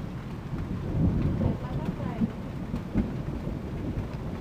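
Thunder from lightning striking near antennas with lightning rods, low rolling rumbles swelling and fading over steady rain, moderately distant.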